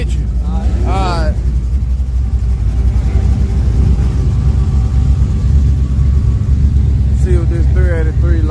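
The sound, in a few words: car with 383 engine running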